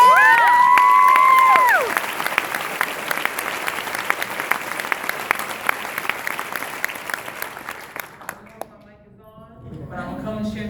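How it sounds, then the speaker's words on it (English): A school assembly audience bursts into loud, sustained applause and cheering with scattered shouts, following a tonal sweep at the start, then the clapping thins and fades before talk resumes near the end. "I think we just need to give another round of applause."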